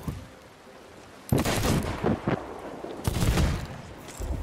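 Gunfire in Sea of Thieves: after a quiet stretch, loud sharp shots crack out in bursts, then a second volley follows, close and harsh with no voices over them.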